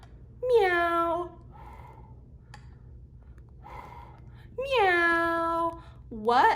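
A human voice imitates a cat with two long, drawn-out meows, close and clear, followed by a short rising third. Quieter speech fills the gaps during a parent-child lesson at home.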